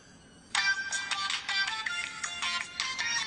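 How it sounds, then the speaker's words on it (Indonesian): A phone rings for an incoming call from mom, its electronic ringtone starting abruptly and repeating in bright pulsing bursts, loud and near with no talking over it. "mama kamu telepon Angel"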